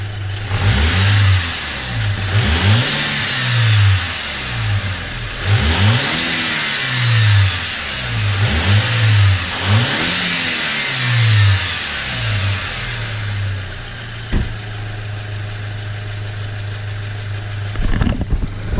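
An Audi A4 engine fitted with a new blow-off valve revs up repeatedly in loud, close bursts, each rev rising and then dropping back to idle. After a few blips it settles into a steady idle, with no talking.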